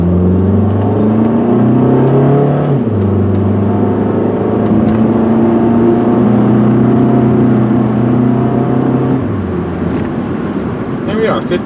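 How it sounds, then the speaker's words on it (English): A 2000 Saturn SC1 car accelerates hard from inside the cabin, its engine note climbing steadily and then dropping sharply at each upshift, two clear gear changes under a continuous drone. "really step on the gas, let you guys see and hear it shift up through the gears."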